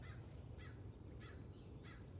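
Crows cawing outdoors, four evenly spaced harsh calls rising above a steady low background rumble, moderately distant and with no one speaking.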